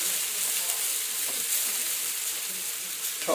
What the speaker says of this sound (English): toss the grated potato onto the pan, as you can see